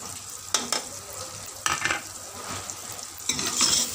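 Spices frying with already-browned onions and tomatoes in a pan for lauki dal, a continuous close sizzle broken by three louder surges as the mixture is stirred.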